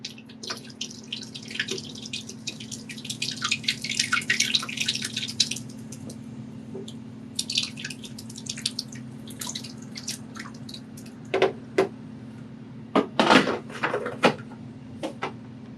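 Wet paper pulp is poured into a papermaking mold. Splashing and trickling water sounds come in bursts with pauses, then drips and a few sharp knocks follow, close and fairly quiet.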